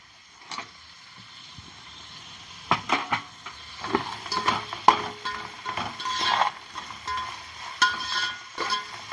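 Lentils and turmeric frying in a pan while a utensil stirs them, giving repeated close scraping and soft sizzling, sparse at first and then busier and louder.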